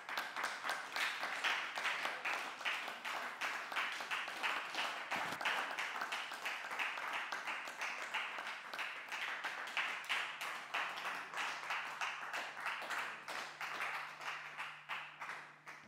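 A church congregation claps and applauds the Lord in a steady, continuous burst of dense clapping that carries through the whole stretch, with a faint low hum joining near the end.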